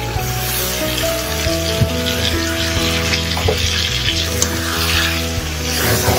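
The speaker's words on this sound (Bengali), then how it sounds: "টমেটোটা দিয়ে ভালো করে কষিয়ে নেব।" Tomatoes sizzle and fry with chicken in a pan for an echor chicken dish, a steady close crackle with occasional stirring clinks and a faint watery hiss, no voices.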